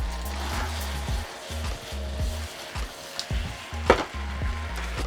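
Pork, kimchi, onions, mushrooms and green peppers stir-frying in a pan, a steady close sizzle broken by repeated scraping and clattering stirring strokes, with one sharper knock near the end.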